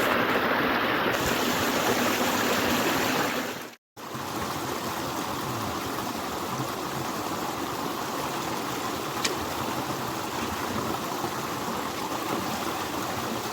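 Steady rushing waterfall water pours past a gold-prospecting sluice held down by a big rock, a loud continuous broadband wash with a brief cut partway through.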